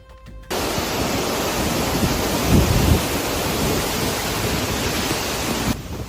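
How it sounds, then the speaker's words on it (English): Heavy rain and gusting wind from a tornado storm in Nashville make a dense, loud, continuous roar that swells briefly midway, starting and stopping abruptly. "Wind gusts and heavy rain from a tornado storm in Nashville"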